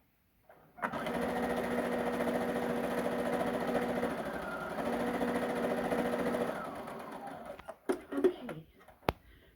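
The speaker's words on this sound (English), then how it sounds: "So I've made my seam." A sewing machine stitches a quarter-inch quilt seam in one steady, close whirring run of about six seconds, then stops and a few small clicks and handling knocks follow.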